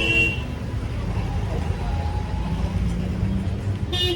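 Cars sit in a jammed road in India during a Dussehra celebration, with a constant rumbling traffic din and short car horn toots at the start and end.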